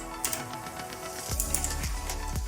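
Keys clatter in quick, uneven strokes while a captcha is entered on a computer keyboard, close and moderately quiet, with a few heavier thuds near the end.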